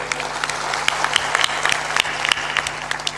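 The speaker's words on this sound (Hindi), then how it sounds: "थोड़ा जोरदार ताली बजाया करो" Audience clapping at a spiritual discourse gathering, sparse and uneven claps rising out of a low room hum, moderately faint, with a few louder individual claps.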